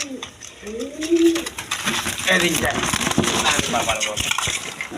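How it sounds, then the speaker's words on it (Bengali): A pair of red Rasgolla pigeons, a male and a female of the gorra type, coo in soft repeated throaty calls at close range, followed by busier rustling and background noise with people nearby. "এখানে এক পেয়ার রাসগোল্লা কবুতর আছে গররা টাইপের কবুতর রেড কালার"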